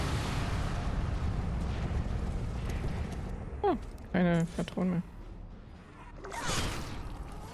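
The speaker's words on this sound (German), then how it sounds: "Das ist schon heftig hier mit den Explosionen." Mortar explosions in the video game Dead Island 2 come as a heavy, rumbling wash of blasts with whooshing bursts, while a voice talks over the combat.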